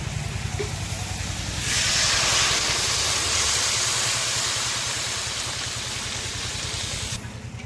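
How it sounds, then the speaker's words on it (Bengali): Water poured into a pan of hot fried spice paste for a katla fish curry hisses loudly, a broad steady steaming rush that swells, then holds before cutting off near the end. "এখন আমি পরিমাণ মতো জল দিয়ে দিচ্ছি"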